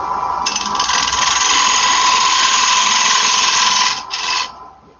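Wood lathe gouge cutting waste wood from the middle of a square bowl, a loud continuous bright hiss of shavings for several seconds, close by, briefly pausing before tailing off.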